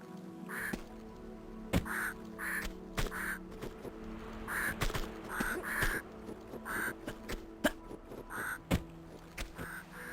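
Crows in the Tomb Raider Remastered video game caw repeatedly in short hoarse bursts, several calls spread irregularly over a quiet outdoor ambience with occasional sharp clicks.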